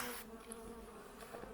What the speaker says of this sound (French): Quand vous avez des abeilles calmes comme ça,